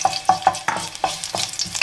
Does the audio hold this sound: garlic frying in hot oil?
yes